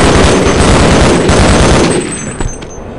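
Loud, dense automatic gunfire from the video game Half-Life rattles in a continuous burst, then thins to a few scattered shots over the last second, with no talking.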